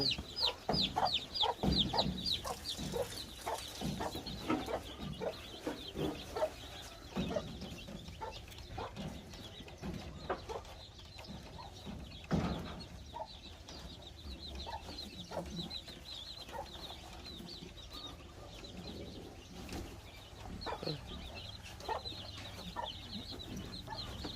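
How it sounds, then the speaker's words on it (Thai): A mother hen clucks softly and repeatedly on a farm, with scattered peeps and cheeps from chicks and faint rooster calls in the background, all at a quiet, moderate distance. "ไก่แม่นี่เลี้ยงลูกดีดี"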